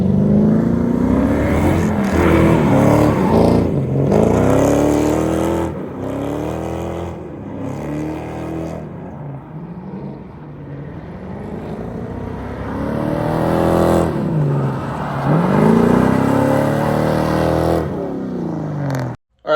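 A drift car's engine revs hard on a test drive, repeated rising and falling sweeps of throttle that stay loud and close inside the car, broken by brief dips between pulls.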